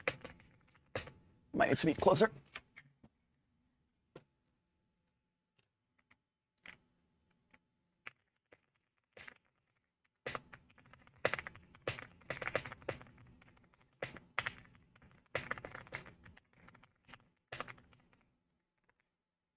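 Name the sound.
computer keyboard typing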